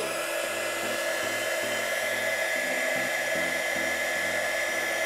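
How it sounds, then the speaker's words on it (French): A hot air tool blows steadily on heat-shrink tubing on a power supply box being fitted with fans, a loud continuous rushing hiss with a low wavering motor hum beneath, no talking. "Un petit peu d'air chaud."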